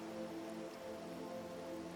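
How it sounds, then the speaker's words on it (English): Steady rainfall in the video game Wuthering Waves, a soft continuous patter of drops with a low background hum, even and unbroken throughout. "The rain's back."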